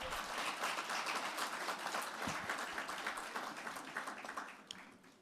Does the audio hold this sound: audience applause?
yes